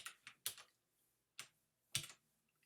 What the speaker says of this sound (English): I'll press enter, I'll press backspace delete